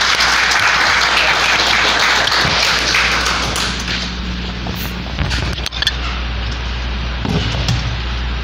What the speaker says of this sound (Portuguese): Herbert, uma salva de palmas.